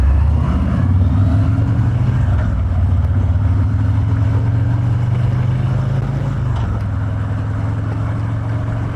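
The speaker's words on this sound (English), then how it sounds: "This Milwaukee A motor on these stock mufflers does not sound bad." A 2019 Harley-Davidson Electra Glide Standard with a Milwaukee-Eight motor and stock mufflers rumbles steadily and loud throughout a ride, its low exhaust drone shifting slightly as it goes, with no talk.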